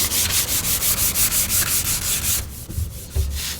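Rhythmic back-and-forth sanding strokes rasp across a dried wood finish at a quick, even pace, then stop, leaving a few soft knocks and handling sounds.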